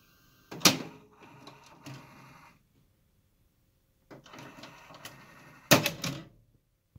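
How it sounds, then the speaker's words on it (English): A 1983 Sylvania VC-2225SL top-loading VCR rewinds with mechanical clunks and whirring tape transport noise in two separate bursts, each ending in a loud clack, with silence between them. "This VCR has always made these sounds."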